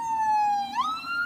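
Ambulance siren wailing nearby, a steady tone that sweeps upward into a higher pitch, over low traffic rumble.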